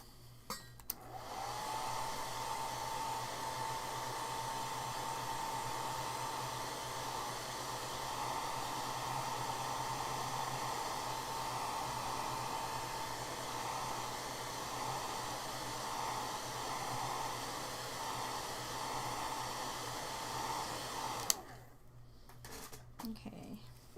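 A hair dryer blows on a wet watercolor painting with a steady, close whooshing roar that runs unbroken for about twenty seconds before clicking off near the end.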